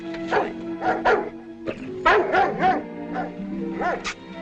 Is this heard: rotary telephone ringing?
no